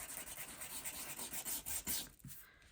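A small hand sanding tool rubs against paper edges in short, close, scratchy strokes, soft and quiet with no talking.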